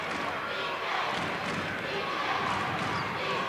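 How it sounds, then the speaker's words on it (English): Crowd noise at a 1992 girls' high school basketball game in a gym, a steady roaring wash of cheering voices with no distinct breaks, under a voice talking. "Crowd really getting into it now."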